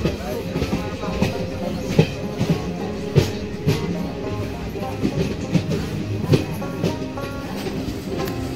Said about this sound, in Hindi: अब ट्रेन का अराइवल सरायगढ़ जंक्शन पर हो रहा है।